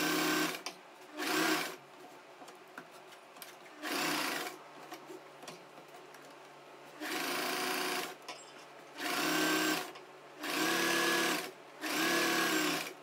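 A sewing machine stitches a churidar in short, loud mechanical bursts of rapid stitching, separated by pauses with quiet handling sounds and no talking.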